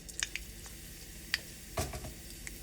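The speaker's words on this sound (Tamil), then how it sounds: "லோ பண்ணிட்டு இதுல கொஞ்சமா கடுகு சேர்த்துக்கலாம்." Mustard seeds hitting hot oil on a low flame in a pan while cooking Tamil-style greens stir-fry, giving faint crackling sizzle with scattered sharp pops and spits, quiet and close, no talking.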